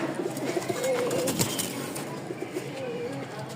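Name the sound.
pigeons cooing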